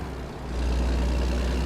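A heavy truck engine idles and then swells into a deep, steady low rumble as it pulls away in a truck driving video game, the drone continuous and close with no talk over it.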